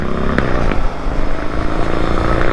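A sport bike's engine revs hard nearby as the rider speeds up to warm it, a loud continuous rising roar with rapid firing pulses and no talking.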